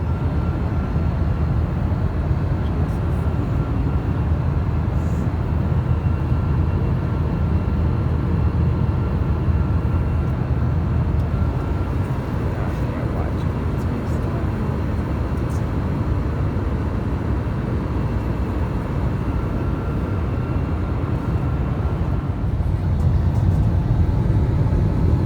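Steady broadband roar of an airplane cabin in flight on final descent, a dense low-frequency engine and air rush holding constant throughout with no talk.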